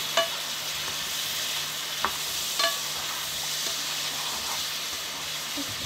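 Pears frying in melted butter for tarte tatin sizzle steadily at moderate volume, broken by a few light clicks and taps of a utensil against the pan; no speech.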